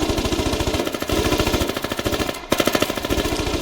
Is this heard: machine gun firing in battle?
yes